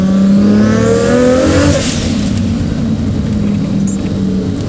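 A 750 hp Toyota Supra with a big-turbo 3.0-litre 2JZ engine revs hard and close, its pitch sweeping upward, then settles into a steady loud drone with tire noise. No one speaks.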